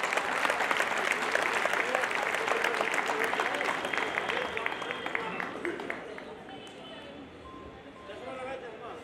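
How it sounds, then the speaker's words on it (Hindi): An audience at a Yadav community matrimonial meeting in Ghaziabad bursts into dense, sustained applause, many hands clapping together before it thins and tapers off toward the end. "गाजियाबाद में जब डीपी यादव जी बोलने के लिए खड़े हों तो तालियां कैसी होनी चाहिए वो आप दिखा दें"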